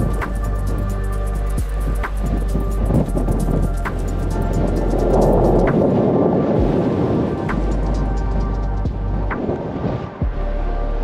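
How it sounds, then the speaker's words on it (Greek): Strong wind buffets the microphone on a mountain summit, a continuous loud roar with gusty swells and occasional thumps, no voices. "Έχει αεράκι αρκετό"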